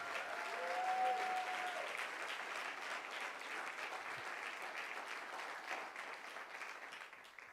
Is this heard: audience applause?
yes